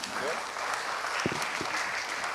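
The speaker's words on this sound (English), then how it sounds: "Please, one more clap for Pavel." An audience claps at a conference talk, a dense, even round of applause that holds steady throughout, with a few brief low knocks partway through.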